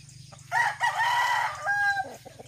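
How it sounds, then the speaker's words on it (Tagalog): A rooster crows loudly nearby in a long, wavering call at dawn on a chicken farm, followed by softer clucking from chickens. "Hi, chicken, chicken, chicken."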